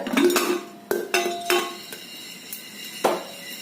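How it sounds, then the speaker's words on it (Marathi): Metallic clanks and rattles sound as a pressure cooker with its lid loosely set is shaken, with sharp irregular knocks and light pops of sorghum popping inside ringing out between quieter moments. "थोडा थोडा वेळानंतर कुकर हलवायचं म्हणजे खाली करपणार नाही"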